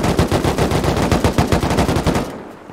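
Rapid automatic gunfire in a survival base-raiding video game, a steady stream of close, loud shots for over two seconds before cutting off and fading.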